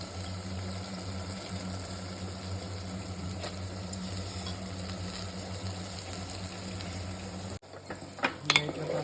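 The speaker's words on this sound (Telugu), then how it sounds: "ఎర్రపప్పును కూడా ఈ నూనెలో వేసేస్తాం." Soaked red lentils fry in hot oil with a low, continuous sizzle for several seconds. It breaks off abruptly and is followed by a few sharp utensil clatters near the end.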